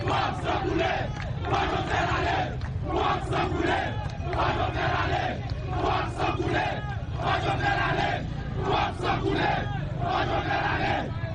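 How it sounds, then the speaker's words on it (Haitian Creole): A large street crowd of opposition militants shouting slogans in rhythmic, repeated bursts, a dense massed roar of voices that rises and falls in a steady chant-like pattern. "Yon gros foule tape descendre sur avenue John Brown."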